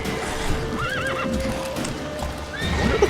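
A horse in The Witcher 3 video game gives a loud wavering neigh over steady clip-clopping hooves, with a second shorter whinny near the end, all up close amid busy game sounds.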